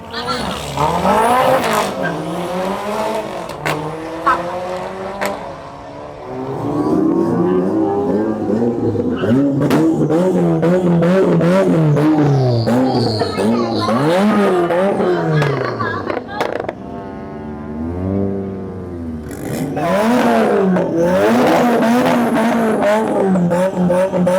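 Car at a festival car meet hazing its tires through fourth gear, with a loud roaring engine climbing through revs and tire squeal for a sustained stretch, people talking and shouting over the din.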